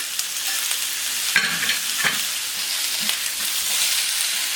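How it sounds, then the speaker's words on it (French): Small potatoes frying on a hot plancha near 200 degrees, a dense bright continuous sizzle with a few crackles and light scraping taps, close and loud with no talking. "nos petites pommes de terre commencent à bien colorer"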